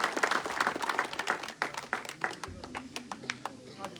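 Audience applause at a gathering welcoming guests with garlands and turbans, quick scattered claps at moderate distance, thinning toward the end with voices faint underneath.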